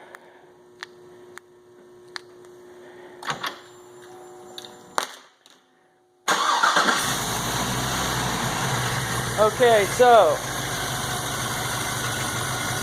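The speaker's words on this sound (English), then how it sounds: "I'm going to start the truck up." A truck engine cranks and fires up, then settles into a steady, loud idle that continues to the end, following a few brief words and light handling clicks.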